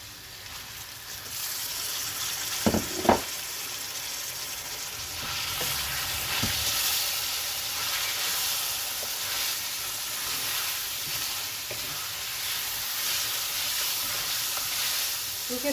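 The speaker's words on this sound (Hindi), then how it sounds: "इसमें मैं डाल रही हूँ हरी मिर्चें और टमाटर।" Green chillies and tomatoes fry with meat in a pan, giving a soft steady sizzle with a couple of sharp utensil knocks early on; fairly quiet and without speech.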